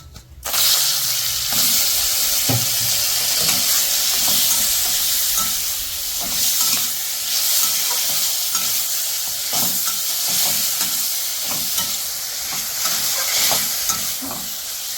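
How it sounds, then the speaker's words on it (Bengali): Raw mango pieces fry in hot oil with ground spices, a loud continuous sizzle and hiss broken by repeated stirring scrapes throughout. "এবার ওর মধ্যে আরেকটু অ্যাড করে দিলাম আর একটা মশলা ভাজা মশলা এবার আমি আমগুলো দিয়ে দেব"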